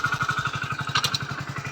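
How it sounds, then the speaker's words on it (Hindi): A Hero Splendor Plus BS6 motorcycle with 24,000 km on it and a freshly replaced clutch plate runs just after starting. Its engine thumps in a steady, even idle, close and fairly loud, with no talk over it. "अब यहाँ से हम गेज लगाते हैं और बाइक स्टार्ट करते हैं।"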